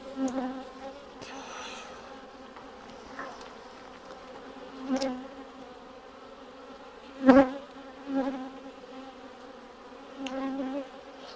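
Dense, steady buzzing of a honeybee colony in an opened hive of mostly black bees, a low continuous hum with a few louder swells as bees pass close by, and no talk.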